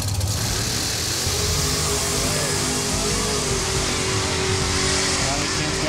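A drag racing car makes a full pass on the strip, loud and continuous, with a roaring engine and some tire noise. Crowd or announcer chatter mixes underneath.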